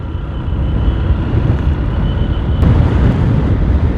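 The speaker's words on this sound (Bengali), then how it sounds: "একটা ঠান্ডা বাতাস গায়ে লাগতেছে" Cold wind rushing past a moving motorbike, a loud, steady roar of buffeting air against the microphone that swells slightly midway.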